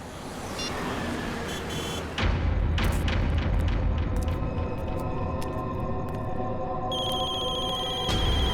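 A phone rings repeatedly in a house during a crime drama scene, with bright electronic ringtone bursts over a loud dramatic music bed and a booming hit, then a sustained ringing tone near the end.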